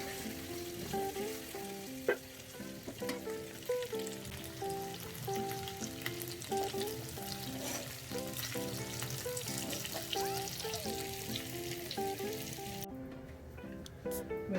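Potatoes fry in a small amount of oil for aloo egg masala, giving a steady, dense sizzle with scattered crackles and pops that continues close and unbroken throughout.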